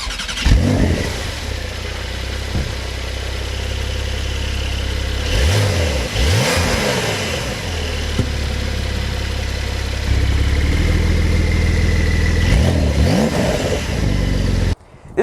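A 2021 Porsche 911 with an upgraded exhaust idles with a deep, steady rumble, then rises in three sharp, loud revs spaced several seconds apart.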